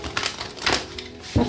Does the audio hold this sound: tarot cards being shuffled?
yes